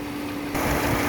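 A Chevrolet Sonic engine idles with its air-conditioning compressor running, a steady, fairly quiet hum that grows slightly louder and fuller about halfway through, with no talking.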